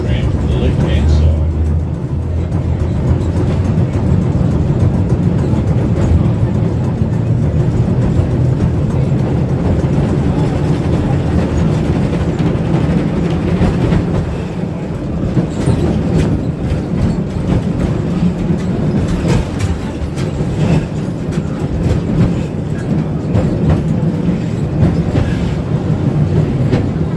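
A Bendigo tram rolls along its rails with a continuous low rumble and rattling wheel noise throughout, loud and close from on board, with occasional faint talk.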